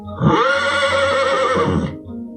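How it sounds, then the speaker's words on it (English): A horse whinnies loudly and alone before a joust in a jousting video game: one long, wavering neigh that rises and then trails off, with a faint low rumble after it. "Horses paw impatiently as the knights lower their lances"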